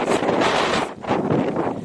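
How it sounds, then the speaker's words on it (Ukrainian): Strong wind roars and buffets the microphone in heavy gusts, dipping briefly before surging again. "Вітер страшний."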